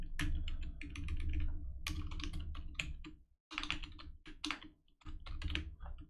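Fast typing on a computer keyboard while writing code, with bursts of close, crisp key clicks broken by brief pauses and no talk over it.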